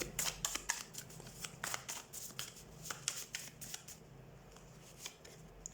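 A deck of tarot cards is shuffled by hand, giving a quick, irregular run of soft papery riffles and flicks that thins out toward the end; close and fairly quiet, with no speech.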